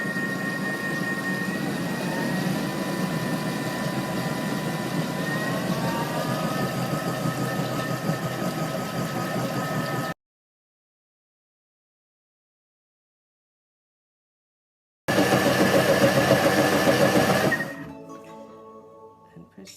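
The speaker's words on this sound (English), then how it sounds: "You see it says it's blending, and we basically just need to increase the speed gradually to a speed of 8 as the time goes down" Thermomix TM6 blending tomato soup, a loud steady motor whir whose pitch climbs gradually as the speed rises toward 8, then a silent gap before a final burst that winds down.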